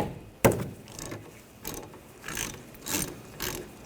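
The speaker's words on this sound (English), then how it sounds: "Using a 14mm socket, take the lower bolt off for the caliper." A ratchet with a 14mm socket works the lower brake caliper bolt loose on a 2014-2020 Nissan Rogue. One sharp clack is followed by several quieter ratcheting clicks at a close, fairly faint level.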